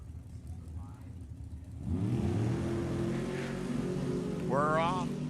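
A funny car accelerates down the drag strip at Sacramento Raceway during qualifying and eliminations, its engine roar rising and building loud for several seconds while an announcer talks over it.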